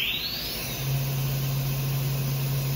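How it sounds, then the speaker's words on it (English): The spindle of a 2015 Techno HDS 60120 5x10 flat-table CNC router ramps up with a brief rising whine, then settles into a steady, smooth hum at 8000 RPM, loud and close with no voices. "Now our spindle is running at 8000 RPM"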